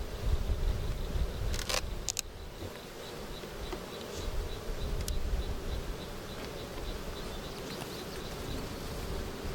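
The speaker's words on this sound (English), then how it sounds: "how many bees we've got left" A dense, steady buzz of many bees inside a hive fills the recording, constant and close, with a few faint clicks and knocks now and then.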